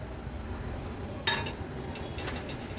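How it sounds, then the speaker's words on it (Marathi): A lid comes off a pot of cluster beans and potatoes steamed over a low flame: one sharp metallic clink, a lighter clatter a moment later, then quiet low background hiss. "झाकण काढून बघूया आपण"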